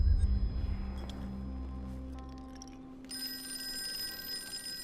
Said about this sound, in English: Is there anything else I can look at before I answer the phone?